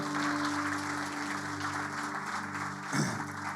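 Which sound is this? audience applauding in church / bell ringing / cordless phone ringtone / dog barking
audience applauding in church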